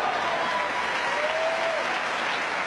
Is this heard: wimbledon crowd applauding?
yes